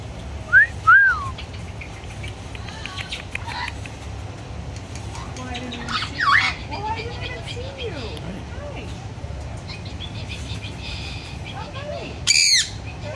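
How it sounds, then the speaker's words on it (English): A pet exotic bird kept at a garden center gives loud, sharp squawks in three bursts spread across the stretch, with shorter whistles and chirps in between, heard close up against low background murmur and speech. "Pretty bird. Pretty bird."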